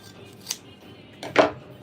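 Scissors snipping through fabric while wrapping a gift, two short close cuts with a brief faint snip followed by a louder, fuller cut near the end of a quiet room.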